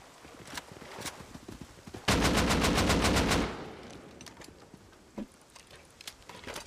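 Rapid burst of gunfire from explosive ammo in the survival game Rust, a loud dense volley lasting about a second and a half, with scattered lighter clicks and shots before and after.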